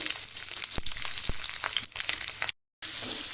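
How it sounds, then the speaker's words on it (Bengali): Cauliflower frying in hot oil on low heat, a continuous close sizzle with occasional sharp crackles and stirring clicks, broken by a brief silent gap, no voices. "আগে ফুলকপিটা ভেজে নেব।"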